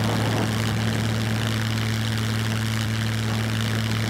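A propeller plane's engine in Scum drones steadily and loudly throughout, a constant low hum with a strong even tone and no breaks, alone without voices.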